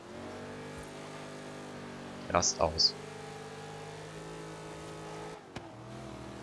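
Engine of a 1969 Chevrolet Camaro SS in Forza Horizon 3, a steady loud muscle-car drone with brief revving bursts and a short dip near the end, someone speaking briefly over it.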